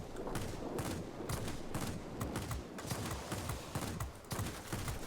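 Aircraft cannon fire from the XP-58 in a flight combat game, tapped in short repeated bursts rather than held, a dense crackle of rapid shots running steadily and loudly throughout.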